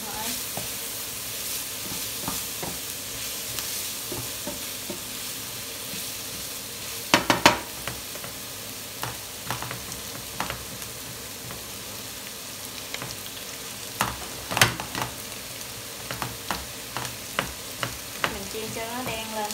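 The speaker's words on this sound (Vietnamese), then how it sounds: "Rồi vậy mình xào lên thôi." Swedish blood pudding stir-fries in a pan with a steady, close sizzle, broken by scattered sharp clicks and scrapes of the utensil stirring and tossing the pieces.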